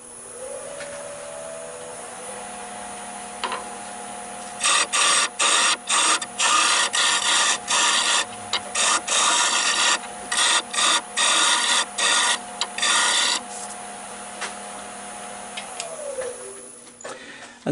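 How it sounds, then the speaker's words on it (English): A wooden hollow form spins on a lathe under a steady motor hum while 150 grit paper is worked over it dry, giving a long run of rapid, rhythmic rasping strokes before the hum carries on alone. "I've just sanded this to 150 grit dry"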